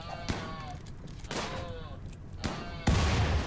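RimWorld gunshots: three or four separate sharp cracks spaced about a second apart, each followed by a brief ringing tail, with a heavier blast at the end, fairly faint overall.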